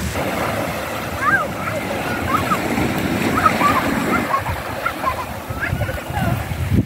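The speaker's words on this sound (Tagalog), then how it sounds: "Lakas ng tubig, oh." Strong waves splash and churn continuously at close range at a pier in Damortis, La Union, with faint voices and high squeals scattered through the noise.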